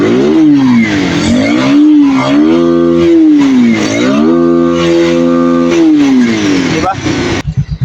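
Rouser 180 motorcycle engine revving loud and close, its tone rising and falling through several rev swells before dropping off, with someone talking over it.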